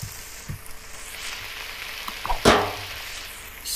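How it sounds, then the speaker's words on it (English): Trout frying in a pan, giving a low steady sizzle with a few sharp clicks and a louder burst of spitting fat partway through, close and with no talk. "The sizzling means it's working."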